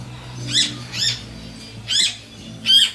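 Blue-naped parrot in an aviary in the Philippines giving four loud, harsh squawks spaced about half a second to a second apart, each call standing out clearly over a low background hum.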